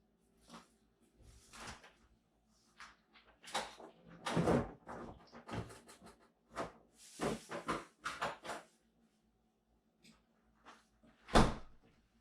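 A refrigerator door in a home kitchen is opened and shut, making scattered clunks, thuds and rattles of items in the door shelves, with one sharp bang near the end and quiet gaps between.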